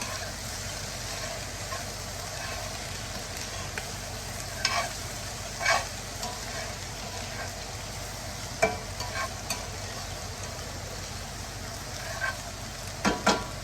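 Seasoned meat for a Philly cheese steak pizza fries on high heat in a pan, a continuous close sizzle with a few sharp scrapes and stirring clicks scattered through.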